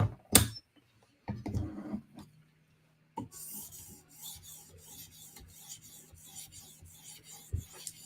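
A knife is sharpened on a heavy whetstone, starting with a few scattered knocks and scrapes, then a run of rhythmic rasping strokes of steel sliding over stone, close and moderately quiet, without talk.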